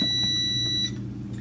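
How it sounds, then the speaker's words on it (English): Kitchen oven timer going off while a pie shell bakes, a steady high electronic beep tone held for under a second over low background hum, then cutting off. "There's my timer."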